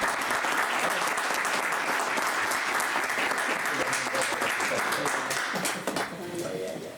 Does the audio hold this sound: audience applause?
yes